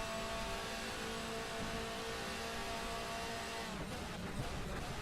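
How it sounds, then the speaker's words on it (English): A race car engine in the sim racing game DTM Experience roars steadily with a raw, buzzing drone and transmission whine, fairly quiet, shifting near the end. "Really throaty, raw engine and transmission noises and brake noises."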